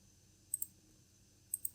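Mouse clicks on a datepicker field, two quick pairs of sharp, quiet clicks about a second apart over faint background hiss.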